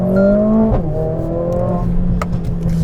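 A 2021 Mercedes-AMG A45 4MATIC+ revs hard with a loud exhaust roar, pitch climbing through gear changes as the car accelerates, close and continuous.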